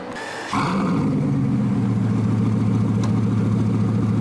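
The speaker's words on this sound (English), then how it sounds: "got in the car, and started up. It sounds amazing with the Mansory exhaust system." A powerful supercar engine fitted with a Mansory aftermarket exhaust starts with a sharp burst, then settles into a loud, deep, throaty idle that rumbles steadily without any talking.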